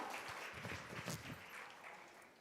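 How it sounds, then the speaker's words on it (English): An audience at a business conference applauds a panel on stage, a broad patter of many hands that sounds distant and faint, fading slightly toward the end. "A round of applause once again for this amazing panel"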